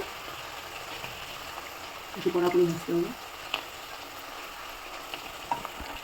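Papri crisps fry in hot oil with a soft, steady sizzle, and a voice briefly speaks over the bubbling partway through.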